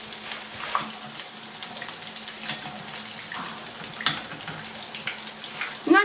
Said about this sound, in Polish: Placuszki nam już się przypiekły i będziemy je odwracać na drugą stronę.